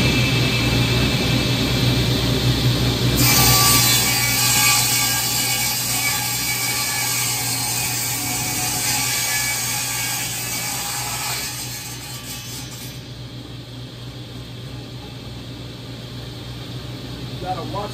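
A table saw cuts 2-inch wood pieces, a loud, steady whirring rasp that runs for about nine seconds over a constant motor hum, then drops back to the idling blade.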